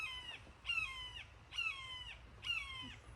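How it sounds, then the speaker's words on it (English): A hawk gives three or four harsh, squawking calls about a second apart, moderately faint against quiet background noise. "that hawk is hungry."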